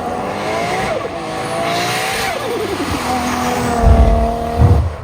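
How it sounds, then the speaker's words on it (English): A 500 HP Toyota Cresta revs and climbs through gears with rising engine tones, then gives deep throaty bursts as the wastegate opens toward the end, loud and close. "when it opens the wastegate from outside, it's a whole other thing"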